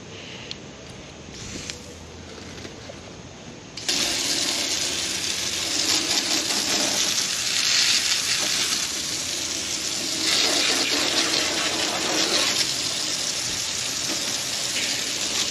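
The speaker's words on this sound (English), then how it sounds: "Let's hose it off." Water sprays from a hose to rinse cleaning foam off a machine, a loud continuous hiss that begins abruptly and holds steady with slight surges, following a quieter stretch of dripping and running water.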